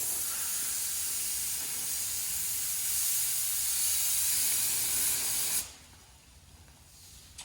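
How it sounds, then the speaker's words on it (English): A spray gun hisses loudly in one continuous burst for about five seconds, then cuts off, leaving a quiet room. "Always do a test spray first."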